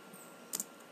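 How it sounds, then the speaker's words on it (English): Two quick clicks on a computer keyboard while typing a spreadsheet formula, close and fairly soft against a quiet background. "then you type the same exact formula"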